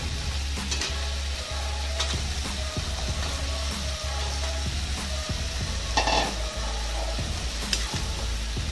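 Drumsticks and lentils stirred and frying in a pan for a Bengali shukto, a steady sizzle with a low hum beneath and occasional scraping clinks of the spoon against the pan.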